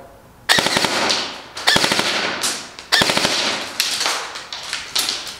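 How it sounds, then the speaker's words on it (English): A G&G ARP9 airsoft gun fires full auto in five rapid, rattling bursts, each a quick string of sharp mechanical cracks with short pauses between, loud and close with no talking. "So this is what full auto sounds like."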